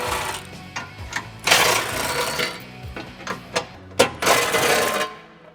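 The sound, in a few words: impact wrench with 18mm socket removing Jeep skid plate bolts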